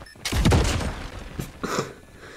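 A custom explosion effect from the FHJ-18 Shattered Chaos launcher in COD Mobile, heard as one loud booming blast with a rumbling tail and a smaller burst following about a second later.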